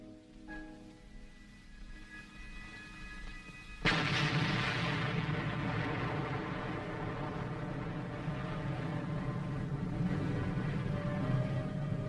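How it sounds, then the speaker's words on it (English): An engineer demolition team blows up a nitrate factory smokestack during the Korean War, a sudden loud blast breaking into a long, sustained roar of rumbling noise after a quieter stretch. "A nitrate factory smokestack is blown up by an engineer demolition team"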